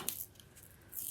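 Paper is torn off a painted collage in a short, soft rip, with a crisp crackle at the start and the end of the 1.2 seconds.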